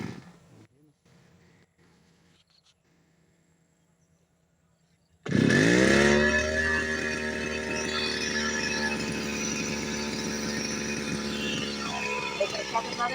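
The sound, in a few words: grass cutter engine running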